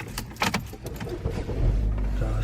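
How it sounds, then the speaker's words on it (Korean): A jangle of keys comes first, then a car engine cranks and settles into a low, steady idle, heard close from the driver's seat with no talking. "이제 이것을 사용을 하려면 시동을 걸어야 되거든요"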